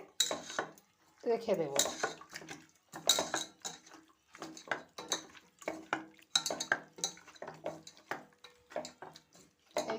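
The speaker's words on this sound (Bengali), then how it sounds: "পরিমাণ মতো হলুদ আর এই যে একটু সর্ষের তেল দিয়ে মাংসটা ভালো করে মেখে" Chicken is being mixed by hand with salt, turmeric and mustard oil in a bowl. Light clinks and clatters of the dish come between and under steady speech.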